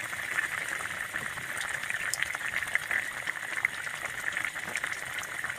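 A thin spiced curry of shing fish simmering in a pot while being stirred, a steady close bubbling and gentle sizzle with soft scattered pops, continuous throughout and free of talk.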